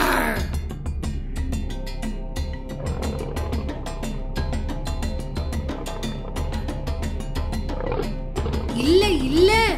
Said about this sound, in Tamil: சிங்கத்தோட கர்ஜனையை கேட்டிருப்பியே, இப்படி